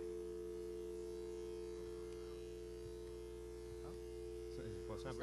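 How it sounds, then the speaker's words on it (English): A telephone dial tone hums steadily and loudly throughout, with faint voices and some speech-like warbling breaking in near the end. "It's not breaking the dial tone."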